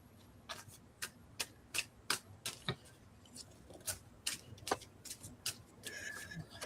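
Oracle cards from a Heavens Guidance deck being shuffled by hand, giving a run of sharp, crisp snaps and flutters in an uneven rhythm, close and fairly quiet, with no talking.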